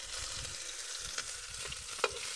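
Fish cocido ingredients tumbling into a hot pan outdoors, sizzling and frying steadily with soft stirring scrapes and a sharper clack near the end.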